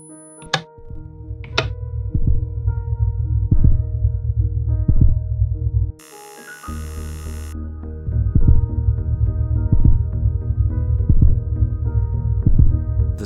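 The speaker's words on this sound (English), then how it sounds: "we can hear the sound of a human heart start to beat" A human heartbeat in a Minecraft world thumps in a steady, loud double-beat rhythm, broken once by a short burst of hissing static before the pulse resumes.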